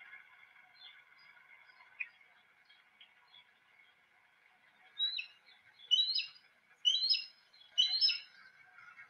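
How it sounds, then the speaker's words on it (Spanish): A juvenile Harris's hawk gives a run of four or five loud, harsh, raspy calls in the second half, preceded by a quiet stretch of faint background tone and soft chirps. "Tenemos a un halcón Harris, este es un juvenil, que sí, efectivamente, podemos ver además su video, viéndonos directamente a la cámara y llamando a sus padres."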